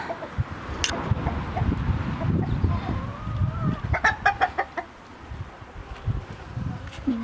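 A rooster and chickens cluck in a quick run of short calls over a busy outdoor background with a low hum, and a voice speaks briefly in Polish.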